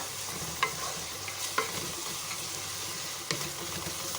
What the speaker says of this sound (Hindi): थोड़ी देर इसको मैं छोड़ देती हूँ ताकि लहसुन अदरक जो अच्छी तरह इसमें भुन जाए।